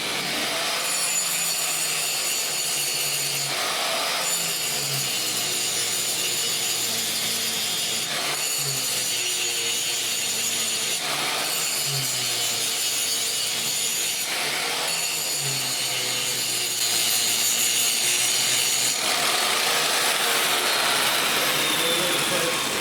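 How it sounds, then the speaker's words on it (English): An angle grinder cuts away the peened-over top of the shaft nut on a Suzuki DR650 rear shock, a loud continuous metallic whine that breaks off briefly and starts again several times. "After you grind off that peened over top"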